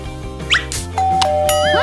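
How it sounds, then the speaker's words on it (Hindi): A doorbell chimes a two-tone ding-dong over a busy background of music and squeaky sounds, the tone sustaining to the end. "कोई घंटी बजा रहा मुझे जाना होगा"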